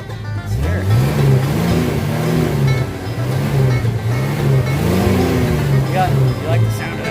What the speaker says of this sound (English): You like the sound of that? That's how cars are supposed to sound.